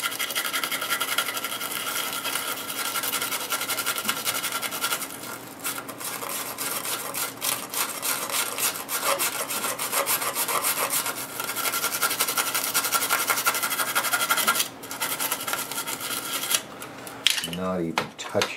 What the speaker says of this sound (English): So I got my wire brush, and I even have some sandpaper if I'm that desperate.